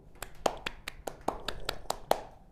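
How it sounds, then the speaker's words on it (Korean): Students clap for a classmate during a high school chemistry class: sparse, separate claps from a few people in a steady, uneven rhythm, close by in a small room. "박수."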